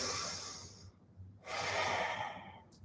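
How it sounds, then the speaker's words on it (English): Slow deep breathing during a meditation, one long exhale, a short pause, then a big inhale, soft and close. "take big inhales and big exhales"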